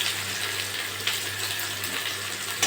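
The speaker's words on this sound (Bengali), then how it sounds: "এই তেলে আমি পেঁয়াজ দিয়ে দেবো।" Sliced onions sizzle in hot oil in a pan after potatoes have been removed, for a potato and bhola fish curry; a steady, close, hissing fry with no speech over it.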